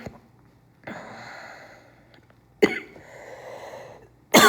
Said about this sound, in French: Vu que je suis toute seule, je tousse comme ça